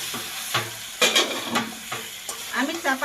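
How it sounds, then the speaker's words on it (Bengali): Chicken frying in a pot with whole spices gets stirred after the lid comes off: sizzling oil under several distinct scraping strokes of the spoon, close and fairly loud. "আবারও ঢাকনা খুলে নেড়ে নেবো"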